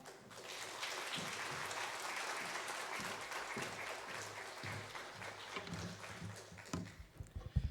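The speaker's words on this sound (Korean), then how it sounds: "우리 목사님 모실 때 뜨겁게 박수로 모시겠습니다." Congregation in a church at a Friday night prayer meeting clapping warmly to welcome the pastor, dense sustained applause that fades into scattered claps and small knocks near the end.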